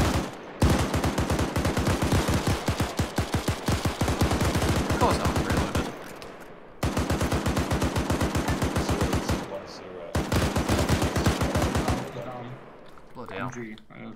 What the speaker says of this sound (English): Open up, boys. Light them up.